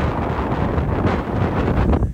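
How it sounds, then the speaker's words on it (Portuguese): Strong coastal wind at Esposende, Portugal, buffeting the microphone in a loud, continuous rumbling roar that rises and falls slightly over a couple of seconds, with no voices. "se você estiver ouvindo, por acaso, um pouquinho só de vento"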